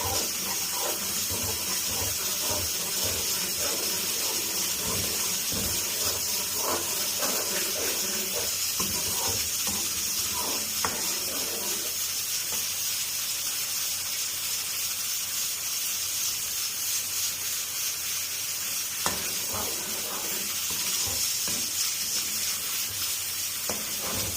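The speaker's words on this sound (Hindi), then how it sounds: "एक 2 मिनट के लिए दही को पका लेंगे ताकि इसका पानी जो है वो ड्राई हो जाए" Whisked yogurt cooks in fried masala in a pan for Rajma, giving a steady, close sizzling hiss with soft bubbling that continues without pause.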